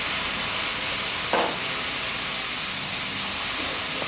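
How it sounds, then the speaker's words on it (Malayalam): Sizzling spiced shallot pickle masala in a pan as vinegar is poured in, a loud continuous hiss and crackle with a short burst of sputtering about a third of the way through. "നമുക്കിനി ഇതിലേക്ക് അരക്കപ്പ് കപ്പ് വിനാഗിരി ഒഴിച്ച് കൊടുക്കാം"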